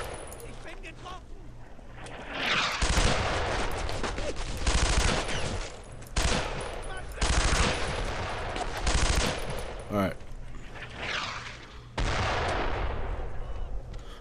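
Mortar and heavy gunfire in Brothers in Arms: repeated loud bursts of shooting and blasts in clusters across the span, over a steady battlefield rumble, with a faint voice in the background.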